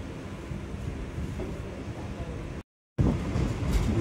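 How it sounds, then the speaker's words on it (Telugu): The Guntur-Aurangabad Express pulling out of Bidar station, a steady low rumble of the moving train with wind noise, cut by a brief dropout of silence before the rumbling resumes louder. "2 minutes తర్వాత అయితే మన ట్రైన్ అయితే ఇక్కడ నుంచి డిబార్ట్ అవ్వడం జరిగింది"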